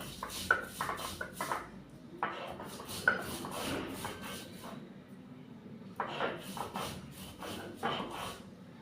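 Roasted dried chilies ground for a Bangladeshi chicken bhorta, giving repeated rhythmic rubbing and pounding strokes in short bursts with brief pauses, close and moderately loud, with no talk.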